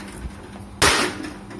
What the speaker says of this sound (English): One hammer hit of the carbon fibre helmet.